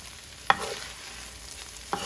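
Homemade fish cake ingredients being stirred in a frying pan, with two sharp utensil scrapes about a second and a half apart over a low, steady sizzle close by.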